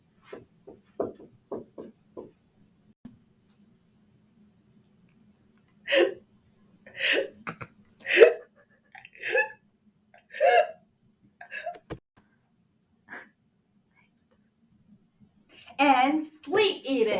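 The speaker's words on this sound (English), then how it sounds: "Non-stop hiccups." Repeated hiccups from a person, about a dozen short sharp bursts spaced irregularly over several seconds, fairly close and separated by silence.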